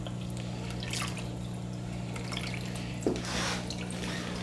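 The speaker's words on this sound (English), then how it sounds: "We'll just go ahead and pour this back into the water," Dissolved ChemiClean treatment poured back into aquarium tank water, giving soft trickling and splashing with a brief louder splash partway through, over a steady low hum.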